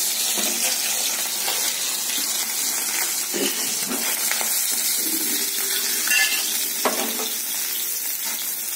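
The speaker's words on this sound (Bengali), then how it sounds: "এই হচ্ছে সেই মাছ ভাজা হচ্ছে" Garfish pieces frying in a pan of oil give a steady, close sizzle throughout, with a few soft stirring scrapes and clinks now and then and no one talking.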